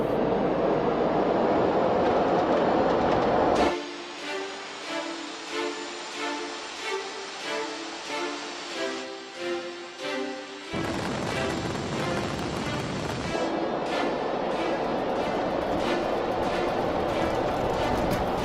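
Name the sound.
Concorde jet engines at takeoff thrust, 3D animation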